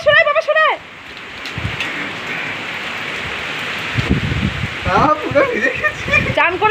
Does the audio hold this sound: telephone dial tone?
no